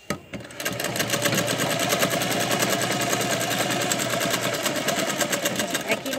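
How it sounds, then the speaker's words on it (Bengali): A sewing machine stitches the ear of a pink teddy bear, its needle running in a fast, steady mechanical chatter that holds close and loud for several seconds after a brief start, with no talking. "তাহলে আমি আগে কানটা সেলাই করে নিচ্ছি।"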